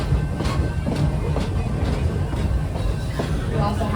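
Train ride at Busch Gardens Tampa Bay passes the Serengeti Express dining building, with a steady rumble and rhythmic clickety-clack of wheels on track underneath.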